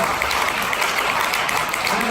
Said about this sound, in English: Give me a huge round of applause.